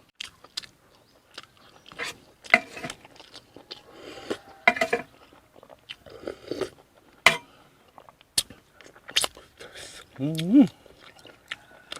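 Boiled fish in sour soup being eaten, with scattered wet chewing, slurping and biting sounds close to the mic, interspersed with talking.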